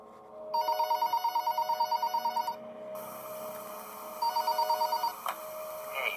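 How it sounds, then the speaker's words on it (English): A telephone rings in the Mac Tonight video game, with bursts of a trilling electronic bell repeating in quick pulses, a pause, then another short ring, clear and close. "Oh, phone call."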